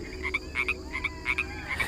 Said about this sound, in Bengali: আর বিলের পাড়ে কোলা ব্যাঙ যেন দল বেঁধে আওয়াজ তুলেছে।